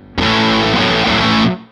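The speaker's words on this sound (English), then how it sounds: "The reverb you hear, by the way, is a spring reverb from the Supersonic." Electric guitar through an Arc Effects Soothsayer overdrive pedal in its boutique asymmetrical position, low-gain mode, with spring reverb from a Supersonic amp: one loud distorted chord rings for over a second, then cuts off into a short reverb tail.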